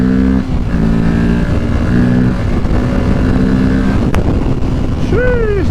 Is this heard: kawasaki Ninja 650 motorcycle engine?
yes